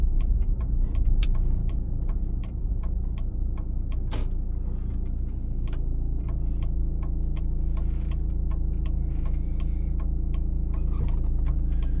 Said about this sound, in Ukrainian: Вмикаємо завчасно лівий поворот.